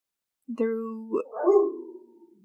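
A dog gives a single drawn-out bark that slides into a whining howl, close by, with silence before it.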